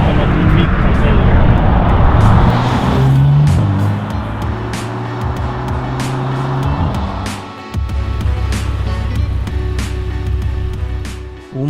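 A Bentley Continental GT's twin-turbo W12 in sport mode revs and pulls hard, a loud, deep engine roar that rises, briefly dips, then surges again while someone talks over it.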